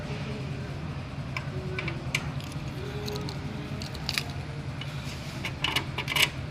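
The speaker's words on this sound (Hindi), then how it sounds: "चाबी लगा दी है, इसको पुश किया, थोड़ा सा खींचा, गेट खुल गया" A key turns in an electric rim lock on a gate, making small metallic clicks and rattles, close and fairly quiet over a steady low background hum.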